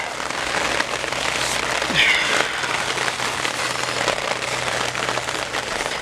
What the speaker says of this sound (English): That rain coming down now.